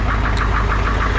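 A Ford 7.3 IDI diesel engine with a stuck injector runs close and loud, warming up with a steady rapid knocking throb and a dense low rumble, with no voices.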